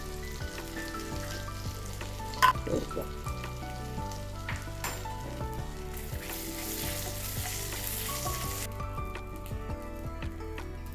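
Cumin seeds sizzle in hot oil in a steady, quiet crackle, with a few sharper pops and light clinks of a spoon against the pan.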